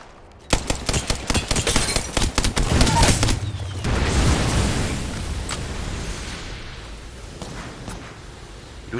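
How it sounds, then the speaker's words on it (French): Gunfire in the battle royale shooter Apex Legends: dense bursts of rapid automatic fire with loud sharp reports for several seconds, giving way to a sustained rumbling roar and lingering noise. "Je suis sous les tirs"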